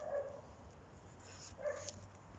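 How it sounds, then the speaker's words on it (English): A small white dog named Coco barks nearby, two short yips separated by a pause, faint and somewhat distant against a quiet room. "That's Bev's dog. My neighbour's dog."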